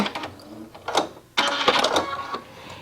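A sewing machine stitches a hem in short, rapid mechanical bursts, with a brief pause before a louder, steadier run of whirring and clattering close by.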